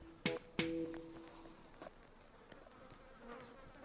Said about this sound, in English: Load of bees here.